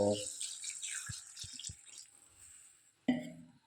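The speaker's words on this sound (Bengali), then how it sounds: "এখানে ঝোলের জন্য জল দিয়ে দেবো" Water goes into a pan of village-style Bengali fish curry with cauliflower to make gravy, a brief close splash at the start followed by a few soft drips, then another short pour near the end.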